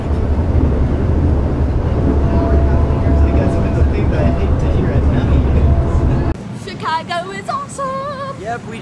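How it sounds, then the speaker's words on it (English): Steady loud low rumble of a moving train fills most of the clip, with a faint tone above it; then the rumble drops and people talk nearby. "We just got off of the train after a really long train ride."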